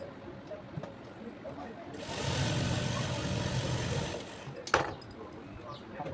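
A sewing machine stitches down the middle of a folded palazzo pant seam, a steady close motor whir running for about two seconds before stopping, with quieter handling sounds around it.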